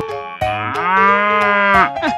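A cow gives one long, loud, close moo with a rich low tone, preceded and followed by short lower grunting sounds.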